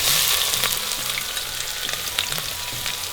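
Onions dropped into hot oil with chilies and garam masala, a loud close sizzle and crackle that stays dense and continuous, with faint stirring knocks and no talk.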